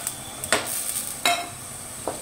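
Onions with tomato paste sautéing in a pan for a Tamil bisi bela bath dish: a soft, continuous sizzle sits under a few sharp stirring scrapes and clinks of a spoon against the pan.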